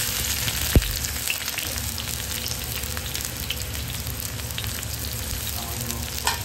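Chopped onion sizzles loudly in a pan on full heat, a dense continuous close frying hiss with a sharp clank near the start and no voices.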